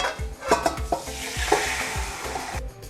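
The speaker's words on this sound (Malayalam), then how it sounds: "ഇനി ഇതിൽ കിടന്നിട്ട് ഈ ചിക്കൻ ഒന്ന് നന്നായിട്ടൊന്ന് ഫ്രൈ ആയി ചെയ്തിട്ട് എടുക്കുക വേണ്ടത്" Chicken, first cooked to one whistle in a pressure cooker, fries in a pan: a rhythmic run of close spatula scrapes and knocks over a bright, steady sizzle.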